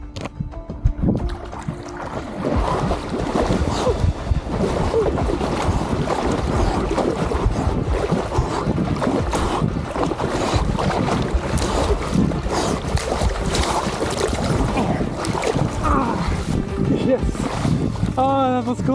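Splashing and churning water as a person swims across a cold forest river during a trail run, loud and continuous with heavy wind-like rushing noise close to the microphone.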